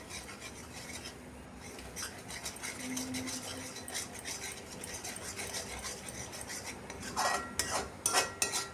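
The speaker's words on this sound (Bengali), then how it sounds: "কসুরি মেথি দিয়েও মশলাটাকে খুব ভালো করে কষিয়ে নিচ্ছি।" Spice masala with kasuri methi is stirred and scraped in a pan with a utensil, giving steady rasping, rubbing strokes, close and fairly loud, growing sharper and more clattery toward the end.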